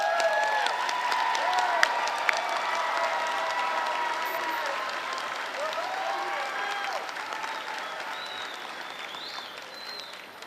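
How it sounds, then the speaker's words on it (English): Class of 2023 graduates stand and give a round of applause at a commencement ceremony, with sustained clapping and a few cheers from a large crowd that fades gradually toward the end. "would you please stand up to give a round of applause?"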